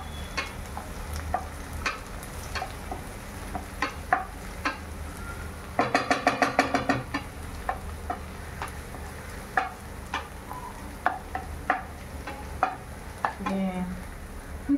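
Onions frying in a pan give a quiet, steady sizzle, punctuated by regular spoon taps and scrapes against the metal and a brief rattling burst midway.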